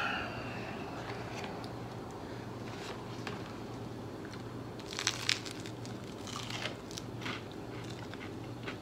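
Quiet crunching bites into a crunchy chaffle, a few crisp crackles clustered midway over a faint steady hum, with no talking.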